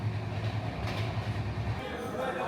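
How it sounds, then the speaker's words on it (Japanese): An Indian train rumbles and clatters steadily along the rails, heard from inside an old carriage as a continuous low rolling noise. "電車に揺られること3時間"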